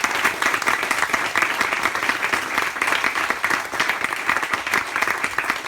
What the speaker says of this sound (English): We're going to leave it while we perhaps have a round of applause for these guys